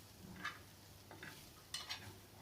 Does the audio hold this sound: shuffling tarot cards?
no